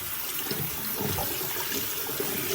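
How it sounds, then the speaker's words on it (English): A synthetic blond wig is squeezed and rinsed in a bowl of water after gentian violet toning, giving continuous close sloshing and splashing throughout. "So I'm going to rinse it out, just kind of squeezing it."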